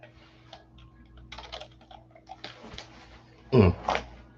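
Computer keyboard typing that is acting up, scattered soft key clicks over a few seconds followed by two louder, heavier presses near the end, close by in a quiet room.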